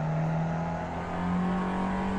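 A Ford Fiesta XR2 engine holds a loud, steady high rev on a lap of Tsukuba circuit, a strong continuous drone that runs throughout with no talk over it.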